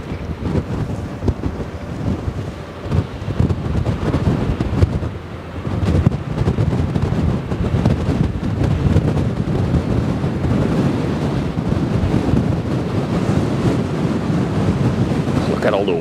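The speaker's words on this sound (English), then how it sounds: "The wind is really doing its thing right now" Strong wind sweeps over the Westerschelde estuary, roaring and buffeting the microphone continuously, with waves washing beneath and no pauses.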